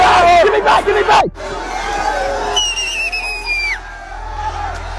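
A dense crowd yelling and shouting as it overwhelms a streamer's security, loud overlapping voices and cries close by, with one sharp scream cutting off before the roar continues.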